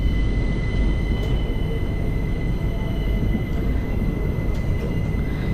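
A passenger train on the Guruvayur to Tenkasi route rolls into Kollam Junction, a steady low rumble of wheels on track with faint high squeals and thin tonal whines riding above, continuous and heard from inside a coach.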